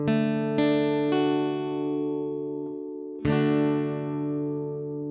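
Acoustic guitar chord checked one string at a time, each note plucked cleanly and left ringing, with a pause before a final fuller strum that sustains and fades.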